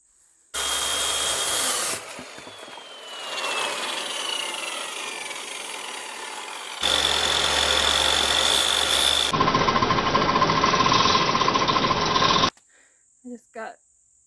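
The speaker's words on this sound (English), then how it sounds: "I'm probably going to have to flip it to cut it the rest of the way because the blade's not quite long enough." A power saw cuts through wood for home cabinets, loud and close, with a long grinding cut, a pause, then higher-pitched whining passes before it stops abruptly and a few clunks follow.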